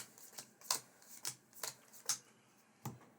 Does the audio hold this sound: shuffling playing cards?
yes